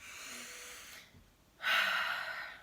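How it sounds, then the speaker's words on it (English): One slow, deep breath drawn in close to the ear follows a softer, fading exhale and a moment of near quiet, rising into a full, airy inhalation. "take a deep breath in"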